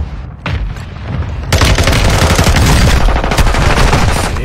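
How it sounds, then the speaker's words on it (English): Hostile mortar strikes land in a video game as a dense roll of heavy explosions and rapid gunfire, loud and continuous, with no voices. "Is it hostile mortar strike near your position?"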